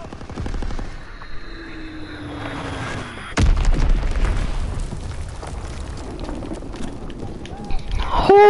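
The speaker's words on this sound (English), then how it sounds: "Enemy bomb incoming." A bomb explodes with a sudden loud boom in a WWII video game. Gunfire and battle noise come before it, and the rumble and debris trail off afterward under faint voices.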